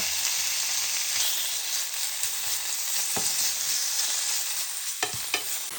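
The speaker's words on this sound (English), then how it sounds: "Add the chicken to the frying pan and fry for 6 minutes." Chicken sizzling in sunflower oil in a large frying pan over medium heat, a steady close crackle and hiss with a few sharp pops and stirring scrapes, no voices.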